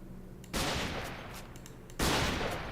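A Minecraft weapon fires in two loud sustained bursts, the first starting about half a second in and the second around the two-second mark, with a quieter noisy lull between them.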